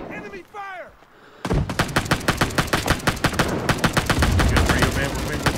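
Rapid automatic gunfire in Rising Storm 2 on the Hue City map, a loud sustained burst of evenly spaced shots beginning abruptly after brief speech and continuing to the end.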